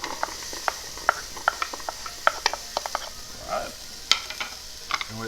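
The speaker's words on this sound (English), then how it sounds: "while we're sauteing this around" Half a white onion sautéing in a Ninja Foodi on sauté sear mode, with a soft steady sizzle under repeated sharp clicks and scrapes of a utensil stirring against the pot at an uneven rhythm.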